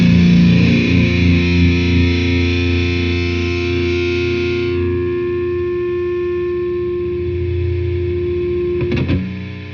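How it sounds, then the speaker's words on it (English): A DemonFX distortion pedal with its noise gate switched off: loud, sustained, buzzing distorted tone that thins out midway, leaving a humming hiss with a short crackle near the end and no voices. "I actually turn the gate off so you can hear how noisy it is"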